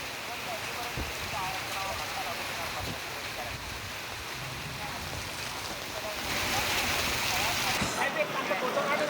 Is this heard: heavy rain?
yes